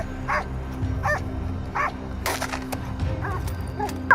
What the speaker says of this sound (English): The dogs' barking made the wild boar panic, trying to find a way to escape.